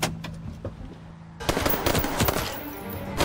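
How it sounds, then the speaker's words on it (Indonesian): Gunfire erupts in a mafia film shootout, starting with scattered shots and then breaking into a dense, loud burst of rapid firing that lasts to the end. "hingga terjadilah baku tembak"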